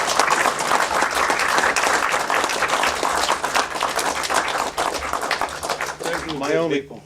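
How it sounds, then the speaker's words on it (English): An audience at a World War II veterans event in Hubbardston breaks into sustained, dense applause, steady and loud throughout before trailing off at the very end. "let's give him a round of applause"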